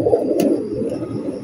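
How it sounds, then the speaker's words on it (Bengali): A single close, fairly loud coo from Teddy pigeons of the 128-number variety: a short, low throaty call that fades over about a second and a half. "এই জায়গা আছে 5 পিস কবুতর, মাশাআল্লাহ স্টার্টিং সবগুলো 128 নম্বর টেডি"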